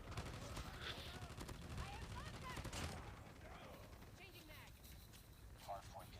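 Rapid gunfire from AGR 556 and 50 GS weapons in a first-person shooter video game crackles in quick bursts under continuous talking, fairly quiet overall.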